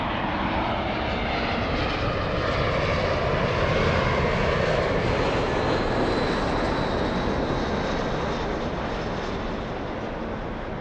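Engines of a Boeing 737-700 at Los Angeles LAX airport produce a loud, continuous broadband roar that holds steady throughout.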